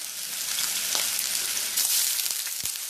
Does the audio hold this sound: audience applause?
no